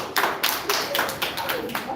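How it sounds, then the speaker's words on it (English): A small seminar audience at a presentation skills course claps for a participant, sparse, uneven hand claps with distinct individual slaps in a roomy space, fairly close. "Let's give Theoma a big round of applause"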